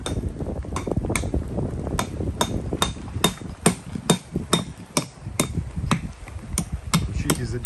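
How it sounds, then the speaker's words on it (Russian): Repeated sharp knocks of a glass bottle used as a hammer to drive nails, outdoors under a shelter by a barbecue grill at a lakeside camp in bad weather, about a dozen strikes at a steady but uneven rhythm, close and loud. "Учитесь забивать гвозди бутылками"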